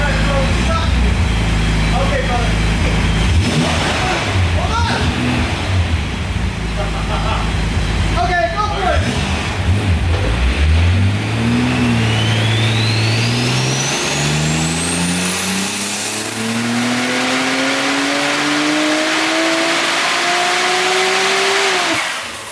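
A car engine roars through a dyno run on a chassis dyno, chasing 1000 wheel horsepower, loud and close, then sweeps steadily upward in pitch through a long rising pull before easing off at the end.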